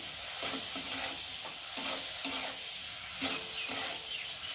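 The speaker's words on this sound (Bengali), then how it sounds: "চিংড়ি মাছটা একটু ভালো করে আগে ভেজে নেব" Shrimp fry in hot oil with turmeric and salt, giving a steady close hiss and crackle broken by periodic stirring scrapes, quiet overall, with no talking.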